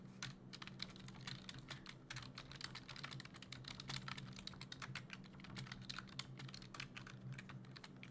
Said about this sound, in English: Just give me 1 second here while I'm typing.